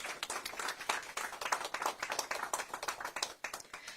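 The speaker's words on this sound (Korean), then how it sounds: "환영의 큰 박수를 보내주시기 바랍니다" Members of a Democratic Party election campaign committee meeting give welcoming applause, a fairly quiet but steady patter of many hands clapping with an uneven rhythm, continuing throughout.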